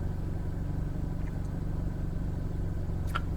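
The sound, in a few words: Hyundai Veloster N driving with rev matching on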